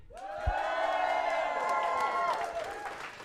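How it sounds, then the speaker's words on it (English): A live crowd at a women's esports final cheers and whoops loudly in a big venue, a sustained swell of voices with some claps that rises and then fades out. "We've got a live crowd."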